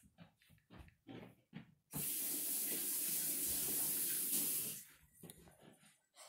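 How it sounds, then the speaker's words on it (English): Tap water runs into a sink as hands are washed, a steady close hiss lasting about three seconds between quieter rustling and handling noises. "I have to wash my hands."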